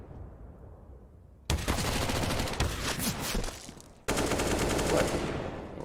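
Pistol fire in a Counter-Strike: Global Offensive pro match on Dust2, rapid overlapping shots in two loud bursts after a quieter opening, ringing with a crackling, dense texture.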